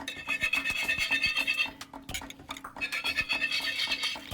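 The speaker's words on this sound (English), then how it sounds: "simply whisk in butter" Whisk beating butter into a thick, syrupy sauce in a pan, a fast, rhythmic scraping and swishing that runs close and steady with a brief pause partway through.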